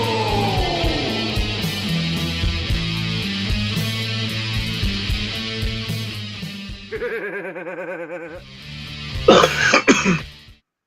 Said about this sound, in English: Sounds like you still have a bit of a cough like I do.